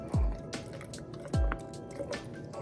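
Breast milk pours from an easy pour container in two short wet bursts, each a quick liquid splash and glug about a second apart, close and fairly quiet, with faint drips between.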